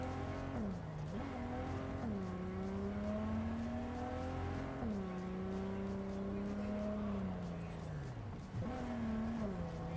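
A car engine in Cyberpunk 2077 drones steadily with a few gear-shift dips as the car accelerates and shifts, loud and continuous throughout.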